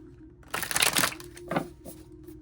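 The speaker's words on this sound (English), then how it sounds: "Let me try shuffling them the other way." Tarot cards being shuffled by hand, a papery riffling burst followed by a couple of shorter shuffles, close and moderately loud over a steady low hum.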